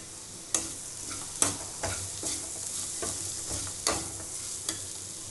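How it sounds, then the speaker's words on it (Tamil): Carrots being stirred in a hot pan for kodo millet pulao, a soft sizzle broken by several sharp spatula scrapes and clicks at uneven intervals, close and moderately quiet with no talking. "இந்த கேரட்டை நல்லா கிண்டி விட்டுட்டே இருங்க"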